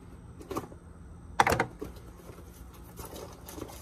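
Cardboard box of replacement ball joint parts being opened up close, with rustling, tearing and handling bursts, one louder rip in the middle and lighter scuffs around it.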